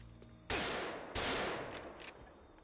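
Gunfire in the video game Doom 3, two loud close blasts a second apart, each with a long decaying roar, followed by softer scattered shots.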